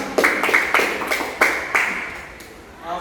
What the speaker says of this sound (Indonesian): kita tepuk tangan dulu untuk kita semua.